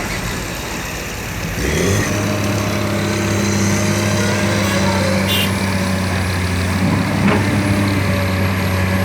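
A ten-wheel dump truck's diesel engine starts up at a sand pit and runs with a steady low rumble, close by and fairly loud, over a constant background of machinery.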